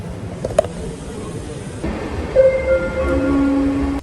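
A train sits at a Swiss station, with a low rumble and hiss building, then steady tonal whines as it starts moving nearby.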